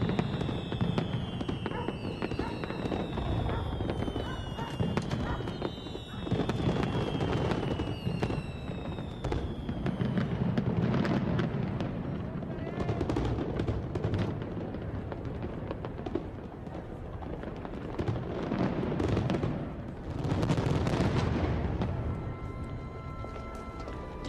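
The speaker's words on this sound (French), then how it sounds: "tout Paris peut admirer un feu d'artifice tiré depuis le 2e étage" Fireworks launched from the second floor of the Eiffel Tower in Paris in the late 1880s, dense continuous crackling and popping bursts with whistling rising streaks, loud and sustained throughout with no talk.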